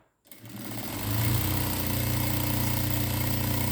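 A sewing machine stitches the fall edge of a saree, its motor starting after a brief silence and then running as a loud, steady, rapid mechanical hum close by.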